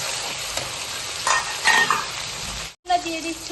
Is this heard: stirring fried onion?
yes